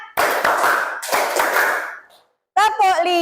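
A classroom group claps a counted rhythm in two quick bursts of dense clapping, then a voice speaks at the end.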